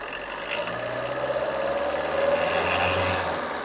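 A used car's engine at a dealership lot runs at a steady idle and then swells gently as it is revved, a moderately close mechanical hum that rises and falls slightly, with no talking.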